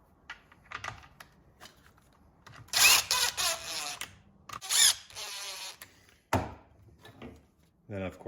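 An impact driver tightens screws on a Stihl string trimmer in a few short, loud whirring bursts separated by quiet gaps and small clicks, with a faint voice nearby.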